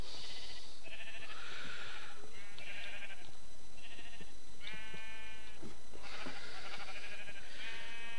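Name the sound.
sheep bleating in video game Minecraft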